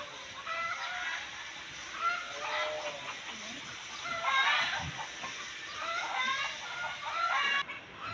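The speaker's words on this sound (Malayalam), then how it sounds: "ഇവിടെ നിറച്ച് കോഴികളാണ് ഇതിൻ്റെ കൂടെ തന്നെ" A flock of chickens at a zoo in Barka, Oman, clucks and squawks continuously nearby, overlapping calls rising and falling, with a few louder cackles.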